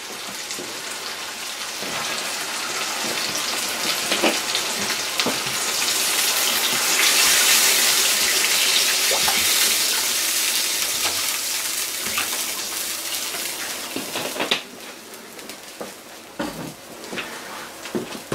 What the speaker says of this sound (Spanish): Ahora vamos a añadirle el agua.